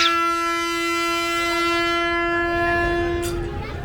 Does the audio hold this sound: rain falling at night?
no